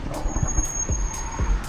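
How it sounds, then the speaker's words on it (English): Road traffic on a commute near Redmond rolls past at moderate distance, a low rumble of cars and trucks with repeated whooshing swells of passing vehicles and a faint high tone, no one speaking. "That is the traffic."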